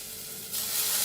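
Dill being stirred into a sizzling frying pan during home cooking, a steady close hiss of frying that swells louder halfway through as the herbs hit the hot oil, with no voices.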